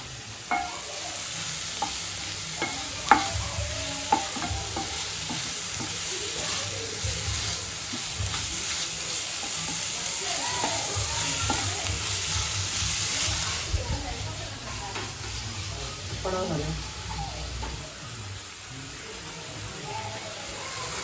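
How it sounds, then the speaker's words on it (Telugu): Squid curry with chili powder, turmeric, salt and garam masala being stirred in a pan, with a steady, close sizzle and scraping from the spoon running throughout and a little background voice. "గరం మసాలా ఇవన్నీ వేసి మిక్స్ చేసి"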